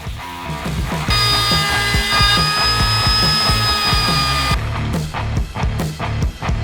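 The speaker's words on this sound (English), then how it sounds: "A bit of flat sanding here." A power sander whirs steadily against a surface, with a high whine in the middle stretch and rhythmic scraping strokes throughout.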